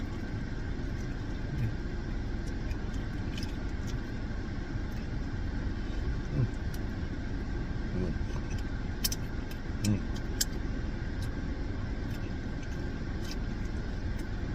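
Interior of a car with the engine running: a constant low rumbling drone with road noise, steady and unbroken, with occasional faint clicks and rustles and no speech.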